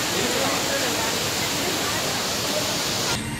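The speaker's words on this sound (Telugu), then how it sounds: "మన కొండ మీద నుంచి వెళ్ళి నీళ్లు జారైతే ఇక్కడైతే పడుతున్నాయి." A waterfall spills down a hillside near a temple at Tirumala, making a steady, loud, broadband roar that stays constant throughout and cuts off abruptly at the very end.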